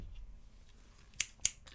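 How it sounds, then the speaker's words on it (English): Scissors cutting paper, two crisp snips close by near the end after a quiet stretch, with no talking. "You just snip, snip, snip."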